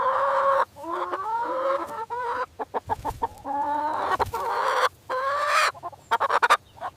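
A chicken clucks in a run of short, repeated calls with brief pauses, loud and close, with no talk over it.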